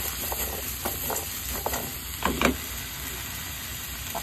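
Ingredients sautéing in a pan for a home-cooked Filipino dish, a soft steady sizzle with a few louder stirring scrapes near the middle, close and alone.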